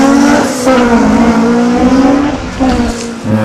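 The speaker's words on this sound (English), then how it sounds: "Now Jeff Arden just launches it off the start line. A little Honda powered Datsun 1200." A Honda-powered Datsun 1200 race car launches off the start line at a hillclimb. The engine is loud and close, revving hard through rising and falling pitch sweeps, with brief tire squeal.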